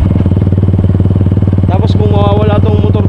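A motorcycle engine running up close with a loud, steady idling throb and rapid regular pulses, while a voice talks over it partway through.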